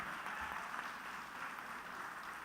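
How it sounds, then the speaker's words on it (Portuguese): A church congregation applauds during a family worship service, a steady, faint wash of clapping that continues evenly throughout. "Vamos aplaudir o Senhor"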